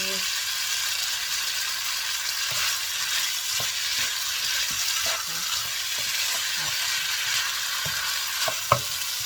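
Stir-frying in a pan with pepper mixed in: a steady, fairly loud sizzle runs throughout, with scattered scraping stir strokes and one sharp clack near the end.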